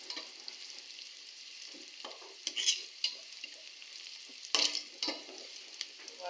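Malabar spinach frying in a pan, a soft sizzle broken by irregular scraping stir strokes and sharper spatters, close but fairly quiet, with no voices.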